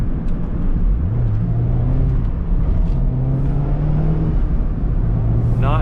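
A 2023 Mazda MX-5 Miata Club sports car driving, its engine note rising and settling through gear changes as a steady loud rumble from inside the cabin, with road noise underneath.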